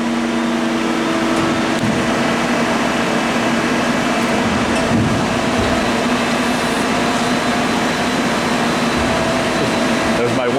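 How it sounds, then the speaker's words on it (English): Sunnen SV-3 vertical honing machine running a hone cycle, a loud, steady mechanical hum and grinding drone that stays constant and close for the whole stretch. "Go over to auto and pull back, and I'm going to hit cycle start."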